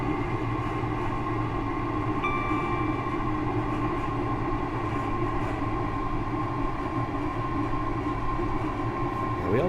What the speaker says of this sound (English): I'm just going to cut off the power now and allow the train to coast at this point